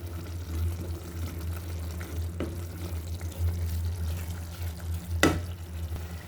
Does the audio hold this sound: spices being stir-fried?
yes